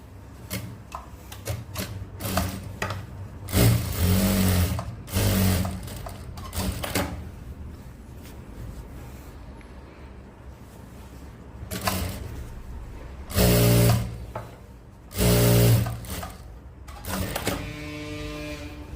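Sewing machine stitching a shirt in several bursts of loud, rapid mechanical whirring, separated by quieter pauses with faint handling noises.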